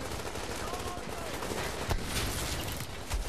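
Dense, continuous gunfire and turret shooting from The Division video game fills the whole stretch, loud and unbroken, with a few sharper bursts standing out near the middle and end.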